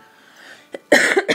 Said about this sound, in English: another pause for a small coughing fit